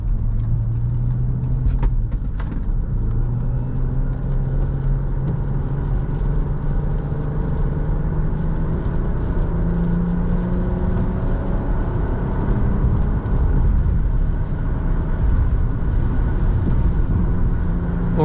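A 2015 Jeep Cherokee Limited with a V6 pulls onto a highway, its engine note rising steadily under a constant loud road and tyre roar that fills the whole stretch, with no talking.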